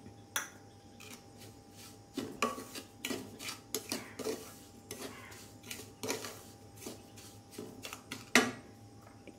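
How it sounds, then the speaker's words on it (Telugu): A spoon stirring a sooji, cardamom and fresh coconut laddu mixture in a bowl, giving a run of irregular clinks and scrapes against the bowl, close and fairly quiet, no voices. "సో ఇట్లా మిక్స్ చేయండి"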